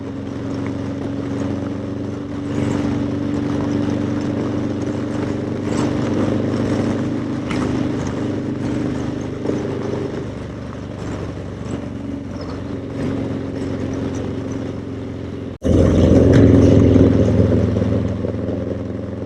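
A motorcycle fitted with a Vance & Hines 2:1 upsweep exhaust runs with a steady, loud engine drone, then rises sharply louder near the end, with no voices heard.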